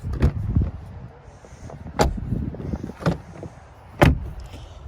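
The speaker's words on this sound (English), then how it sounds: "You can hear the doors unlock." A 2021 Jeep Wrangler Unlimited Rubicon's door locks actuate via keyless entry when the handle is grabbed, giving several sharp mechanical clunks spaced about a second apart, close and loud over a low rumbling background.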